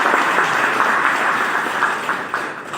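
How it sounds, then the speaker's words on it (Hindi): An audience applauding at a Hindi film event for Pawan Singh's movie New India, a steady dense wash of many hands clapping, continuous and fairly loud throughout, with no voices over it. "तो इसके लिए एक ताली बननी चाहिए"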